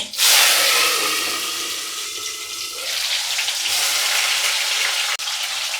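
Chilies and chopped tomato hit hot oil with five-spice seeds in a pan and sizzle loudly and steadily for several seconds, a broad hissing fry with no voices.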